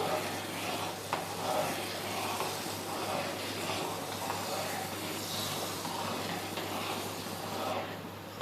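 Wheat rava is added to a pan and stirred, giving a soft, continuous sizzle and scraping hiss at a low level under a steady background hum.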